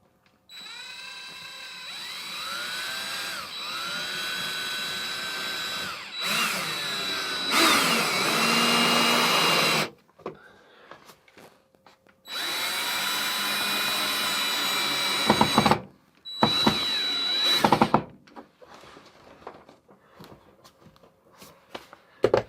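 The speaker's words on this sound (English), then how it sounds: "Then I'm gonna run a couple screws in diagonally from this board up into this board." Cordless power drill driving screws diagonally through one wooden board into another, in several sustained whining bursts that rise in pitch as each screw seats, separated by quiet handling and clicks.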